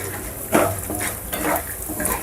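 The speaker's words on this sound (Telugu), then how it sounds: "ఇప్పుడు ఇందులోకి మనం శనగపప్పు, మినప్పప్పు, ఆవాలు, పోపు దినుసులు వేసుకోవాలి. వేసుకొని మీడియం ఫ్లేమ్లో పెట్టుకొని ఫ్రై చేసుకోవాలి." Chana dal, urad dal and mustard seeds frying in oil over medium flame for a tomato bath breakfast, a crackling sizzle broken by a few sharp spoon scrapes against the pan, close and without voices.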